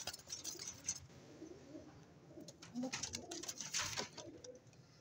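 Pigeons kept as flying birds in Pakistan coo softly in a loft, their low murmuring calls repeating unevenly with brighter chirps and background noise, fairly close and without talk.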